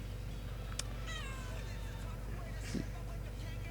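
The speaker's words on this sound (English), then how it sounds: "Why are you staring at me, little cat?" Hank, a pet cat, gives a short rising meow over a steady low hum of room or game noise, faint and fairly close, with a few light knocks nearby.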